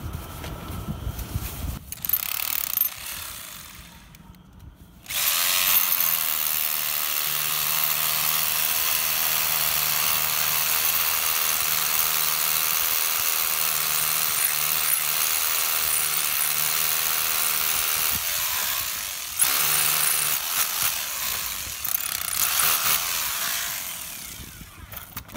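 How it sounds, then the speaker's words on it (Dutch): An electric drill bores a hole for a wall plug in a camper, starting with short bursts and then running as a steady, loud, high-pitched whine for about fifteen seconds before brief stop-start bursts. "Dus boren we eerst even een gaatje"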